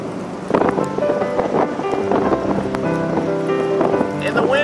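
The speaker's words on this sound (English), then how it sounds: "The winds are starting to pick up." Wind and rain lash the coast at Rocky Nook, Grays Beach in Kingston during Winter Storm Nemo in 2013, a loud continuous roar and patter with voices and other noise mixed in throughout.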